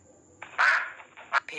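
A cartoonish duck in a children's learning app gives a few short, bright quacks in quick succession, loud and close.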